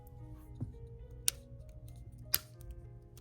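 The back housing frame of a Motorola Moto G 5G 2025 (XT2513) is pressed down after a screen replacement and clicks into place: three faint, crisp clicks spread over a few seconds against a quiet room hum.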